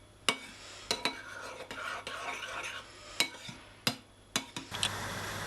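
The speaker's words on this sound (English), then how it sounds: "So that's the sauce, and you just want to mix it all in." Sauce stirred in a pan with a utensil, giving irregular sharp scrapes and clinks against the metal over a soft bubbling background, close and fairly quiet, with no talking.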